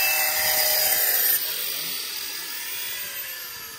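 Grinder cutting building materials on a construction site, a steady high-pitched whine and rasp that holds continuously, dipping slightly partway through and carrying on at a constant level, with no voices.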